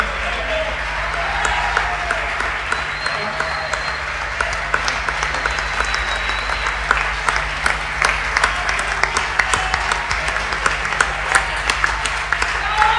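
Audience applause at a 2009 concert in Córdoba: a steady, dense wash of clapping that holds for the full stretch over a low constant hum.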